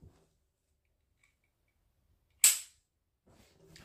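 A single sharp click of a gun being dry fired, with no round, stands alone in near silence, followed by faint handling noise.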